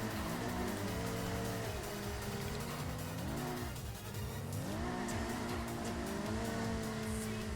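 A Toyota Supra race car in a racing game, its engine droning and shifting pitch through gear changes and corners, with a dip in revs midway, continuous and loud.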